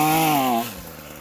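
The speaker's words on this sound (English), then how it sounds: "Logan, let it idle." A Ryobi 25cc 2-cycle cultivator engine drops from a buzzing rev down toward idle, its tone sliding lower over about half a second before settling into a quieter steady putter outdoors.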